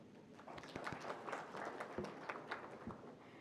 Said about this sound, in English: You can give yourselves a bigger round of applause for the work that you saw up there.